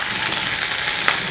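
Vegetables sizzle steadily in a hot pan of chicken chilli, a dense, even frying hiss with a faint stir noise near the end, loud and close with no talking.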